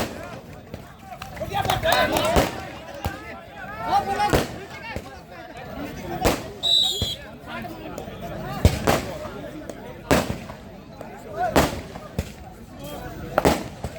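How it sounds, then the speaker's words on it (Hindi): Firecrackers bursting repeatedly at an outdoor kabaddi match, sharp bangs scattered irregularly over a noisy crowd and an announcer talking throughout. "पटाखे सही चल रहे हैं क्या?"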